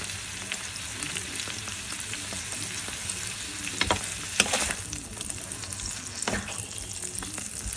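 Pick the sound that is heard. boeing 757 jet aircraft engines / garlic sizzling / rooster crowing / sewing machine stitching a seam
garlic sizzling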